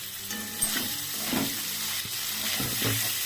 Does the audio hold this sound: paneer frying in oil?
yes